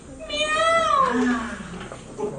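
A performer's voice imitates a cat's meow during a Hindi comedy stage play, a single drawn-out, rising then falling mew about two seconds long, loud and close, with no other talk.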